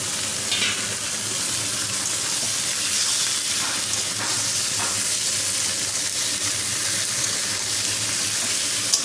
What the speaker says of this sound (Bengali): পেঁয়াজ দিয়ে চিকেনটাকে একটু ভাজবে